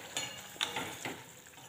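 Spoon stirring cooked raw mango pieces in a pan while making gulamba, a few soft scraping strokes close by with no talking.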